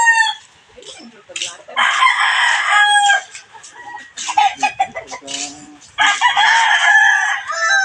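Chickens clucking and a rooster crowing loudly and close by, held in a cage on a farm, with repeated bursts of calls separated by short quieter gaps.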